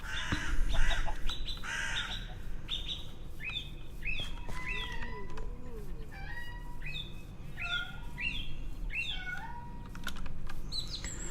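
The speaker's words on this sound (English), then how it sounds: "My cat is crying at me." A house cat meows and cries repeatedly in a series of rising, plaintive calls, close and fairly loud, over a steady low background hum, with some clicking like keyboard typing in the room.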